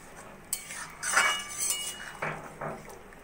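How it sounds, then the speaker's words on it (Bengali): A metal spoon stirs homemade garam masala powder into paneer and potato curry, clinking and scraping against the pan in several close knocks and scrapes, with no voices. "দিয়ে গরম মশলার গুঁড়োটা ভালো করে পনিরের সঙ্গে মিশিয়ে নেব।"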